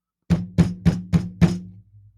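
Five heavy thuds of a fist pounding on a wooden door, evenly spaced and close, each with a low booming resonance, followed by a faint rumble as they die away.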